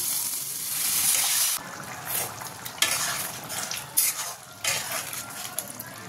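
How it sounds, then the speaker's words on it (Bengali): Soybean kofta curry gravy bubbling as it boils in a pan, a steady close simmering hiss with occasional stirring and utensil scrapes, no talking. "দেখো ঝোলটা খুব ভালোভাবে ফুটে গেছে।"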